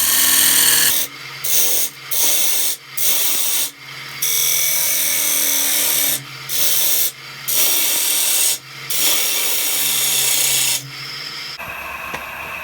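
A bowl gouge with a swept back grind cuts a cross-grain wooden chip and dip platter spinning on a lathe, loud rasping cuts in repeated bursts separated by brief gaps, over a steady motor hum.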